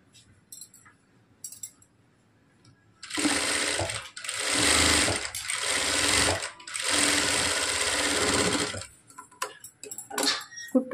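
A sewing machine stitching a plain blouse runs in several steady bursts of rapid mechanical clatter, pausing briefly between runs, with quiet handling sounds before and after.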